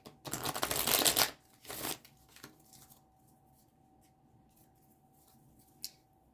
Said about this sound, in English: I'm being told to shuffle.